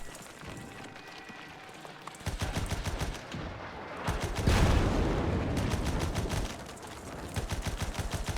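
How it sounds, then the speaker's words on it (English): Artillery and gunfire in a WW1 trench video game, with dense rapid machine-gun bursts and repeated heavy booms from field guns, loud and continuous throughout. "that bloody artillery that keeps firing at me"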